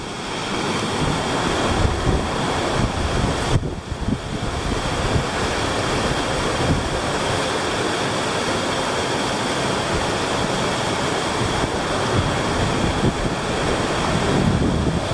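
Steady outdoor wind roars across the microphone near an old stone wall at a metal-detecting site, a loud continuous broadband rush with slight swells and no speech throughout.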